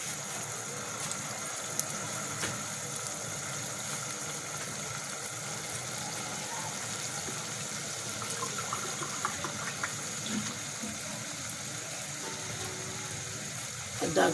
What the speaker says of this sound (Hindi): पानी असीं इहदे विच थोड़ा जिहा होर पावांगे।